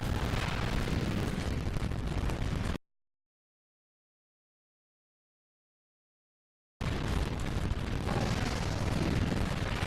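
Explosions blow apart sections of a ship in the Ratchet and Clank video game: loud, continuous rumbling blasts fill the opening seconds, cut to full silence, then return just as dense and booming.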